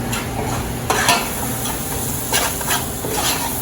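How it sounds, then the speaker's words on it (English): Chili powder, cumin and paprika are stirred in hot oil, giving a steady close sizzle with a few louder scraping strokes of the spoon against the pan. "And I just give that a little stir, let that start."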